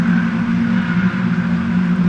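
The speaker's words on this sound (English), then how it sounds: "You can hear the tyres squealing." Race car tyres squealing at the limit of grip at Donington Park's old hairpin, a steady sustained screech layered over loud, continuous engine drone.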